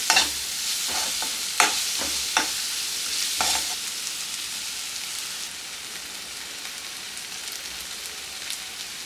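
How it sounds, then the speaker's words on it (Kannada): Egg mixture with Maggi masala fries in a pan, a soft continuous sizzle with a few sharp stirring scrapes early on, settling into a steady crackle. "ಮ್ಯಾಗಿ ಮಸಾಲ ಹಾಕ್ಕೊಂಡು ಇದನ್ನು ಹುರ್ಕೊಳ್ಳೋಣ"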